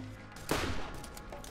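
A single heavy, booming shot bursts close and loud in the video game Borderlands Remastered, trailing off over soft background game sounds with a few faint, distant pops afterward.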